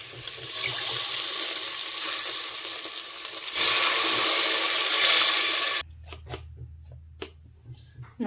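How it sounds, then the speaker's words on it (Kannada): Water pours noisily from a tap into a cooking pot being readied for Muslim-style pulao, a dense hissing gush that shifts in pitch partway through, then stops abruptly, leaving faint clinks and quiet kitchen hum. "ಅಷ್ಟು ನೀರು ಹಾಕ್ಕೋಬೇಕು."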